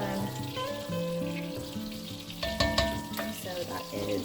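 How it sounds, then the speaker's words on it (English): Butter melts and sizzles steadily in a pan before beef goes in, with a soft continuous crackle and a few louder spatters, no talking over it. "It's starting to sizzle, and I'll add in the beef."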